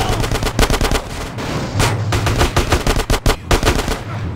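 Rapid, loud gunfire in the video game GTA San Andreas, with dense automatic bursts and single shots cracking nonstop over one another in a hectic firefight.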